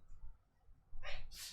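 A single quick sneeze near the end of a quiet stretch, short and fairly faint, sounding in two sharp bursts with no talk over it.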